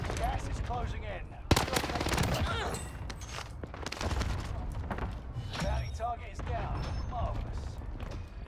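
Rapid gunfire in a battle royale video game shooter, M1912 shotgun loadout, with dense repeated shots and clattering bursts throughout, loud and close, while a voice talks over the action.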